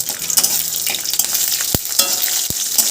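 Spices and peanuts frying in hot tempering oil for a vegetarian banana-blossom mash, a loud continuous sizzle with a few sharp clinks from stirring.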